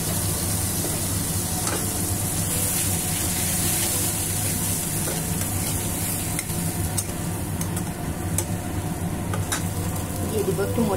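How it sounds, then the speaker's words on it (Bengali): Spice masala for a daitne fish bhuna sautéed in a pan with a splash of water, a dense continuous sizzle with occasional spoon taps and scrapes, close and steady, no talk. "এবার একটু মশলাটা কষিয়ে নেব।"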